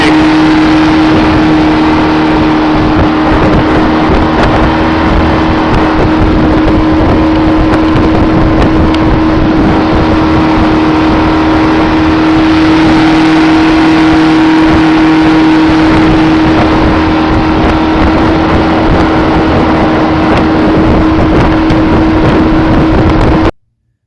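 A 25-horsepower outboard motor driving a wooden Carolina dory boat, droning loud and steady throughout with a constant whine and rushing wind and water noise, ending abruptly.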